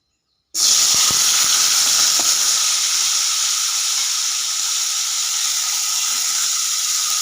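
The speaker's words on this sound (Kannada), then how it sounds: "ಈ ಎಣ್ಣೆ ಬಿಸಿ ಆಗಿದ ಮೇಲೆ ಇದಕ್ಕೆ ನಾವು ಟೊಮೆಟೊನ ಆ್ಯಡ್ ಮಾಡ್ಕೊಳ್ಬೇಕಾಗುತ್ತೆ" Tomatoes dropped into a tablespoon of hot oil for village-style tomato kai gojju, a sudden loud, steady sizzle that starts abruptly and holds at full strength without pause, with no talk over it.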